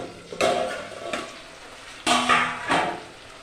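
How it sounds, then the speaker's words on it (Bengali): A covering plate lifted off a pan of bhola fish paturi, a few distinct metallic clanks and scrapes of the plate against the rim over a faint sizzle underneath. "থালাটা উঠিয়ে আমি দেখব"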